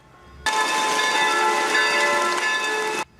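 Church bells rung in the rain for mourning after a mass shooting in Prague, a sustained, resonant metallic ringing that starts abruptly, holds steady and loud for about two and a half seconds, then cuts off.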